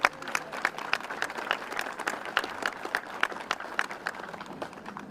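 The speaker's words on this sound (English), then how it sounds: "We can clap for that, that's okay." Children and adults clap at an outdoor Arbor Day celebration held with a school for a Tree City USA recognition, giving a moderately loud, scattered round of applause with distinct individual claps heard throughout.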